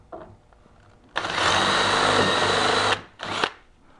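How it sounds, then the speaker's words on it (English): A power drill runs loud and steady for about two seconds, stops, then gives a second short burst, with quiet clicks and handling sounds before. "So I'll go ahead and drill that hole."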